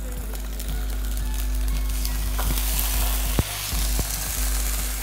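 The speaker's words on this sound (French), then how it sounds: "Donc on va ramener les poissons hein, à frire à la poêle." Fish frying in a pan: a steady, close sizzle with occasional clicks and scrapes, no talking.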